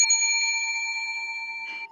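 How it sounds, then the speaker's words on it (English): A bell rings once with a clear, close ding whose pure overtones hold steady for about two seconds before being cut off, with nothing else around it. "You can't ring the bell."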